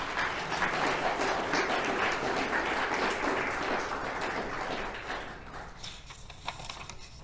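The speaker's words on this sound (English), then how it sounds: "Please give them a round of applause." A congregation applauds at a Sunday service welcoming a rabbi as guest, the clapping dense and loud for about five seconds before thinning out into scattered claps.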